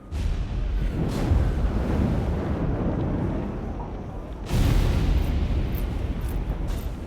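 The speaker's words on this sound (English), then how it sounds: "Action front! Aim! Fire!" Musket volley fired on command in Flintlock: The Siege of Dawn: two heavy booming blasts, one at the start and a louder one midway, each trailing into a long rumbling roar.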